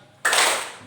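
A classroom of students claps together once, a single sharp, loud burst of hands that fades quickly into quiet.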